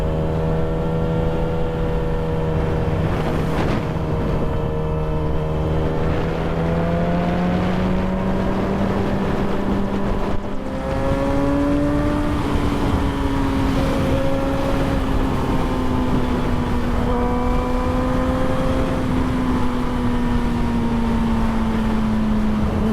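A custom Yamaha R6 motorcycle engine drones steadily while riding, its pitch climbing and falling through the revs with a shift partway through, loud and continuous under wind noise.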